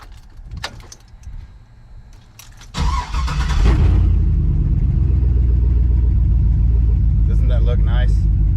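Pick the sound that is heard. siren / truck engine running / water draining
truck engine running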